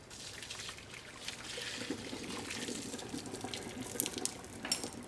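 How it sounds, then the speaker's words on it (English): Water from a pot of boiled potatoes pours off steadily into a sink, a continuous splashing trickle close by with small clinks near the end. "So I'm gonna get rid of the water now."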